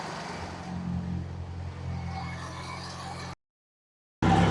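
An old Jeep Comanche MJ engine idles steadily, a low, even hum with a faint rumble, before a brief cut to silence and a short return.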